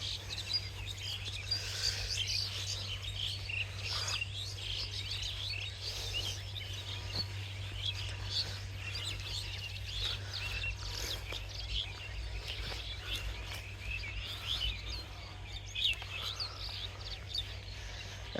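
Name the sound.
hundreds of pigeons eating leftover rice in harvested field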